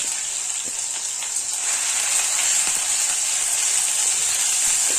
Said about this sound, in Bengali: আদা রসুন পেস্টটা একটু নেড়ে চেড়ে ভেজে নেব।